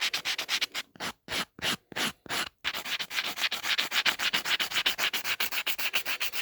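Soft charcoal rubbed with sandpaper over a canvas makes rhythmic rasping strokes, several spaced sweeps at first, then a fast, steady run of close, scratchy passes.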